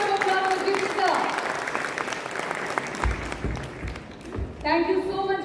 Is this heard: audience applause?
yes